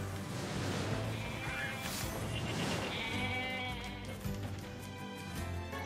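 Sheep bleat repeatedly in the video game NieR Replicant over a continuous background of game ambience and low hum, with occasional crashing noises.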